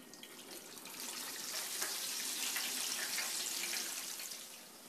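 Shrimp and oysters deep frying in a fryer basket give a steady, broad hiss and crackle of hot oil, faint and continuous, with no voices.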